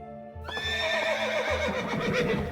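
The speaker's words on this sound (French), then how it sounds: "Un cheval cabré." A rearing horse gives a loud, long neigh that swells and quavers over a couple of seconds, close and alone with no talking, with a low droning tone running beneath it.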